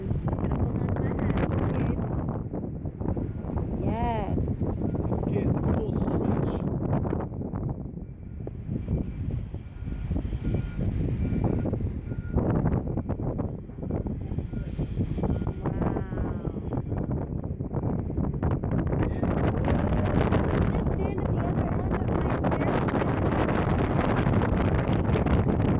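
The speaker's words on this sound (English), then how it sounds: "Ooh, it's a windy one." Strong, steady wind buffets the microphone aboard the Celebrity Reflection cruise ship with a loud, continuous roar that gusts and swells throughout, with a voice speaking occasionally underneath.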